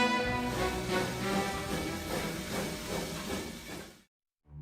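A steam locomotive lets out a long, loud, sustained whistle with rich harmonic tones, mixed with a rushing hiss of steam. It stops abruptly and briefly returns at the very end.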